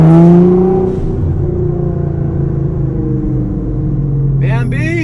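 A 750HP Nissan GTR cruises along a canyon road, its engine a steady low rumble heard from inside the car, with a voice speaking over it near the start and again at the end.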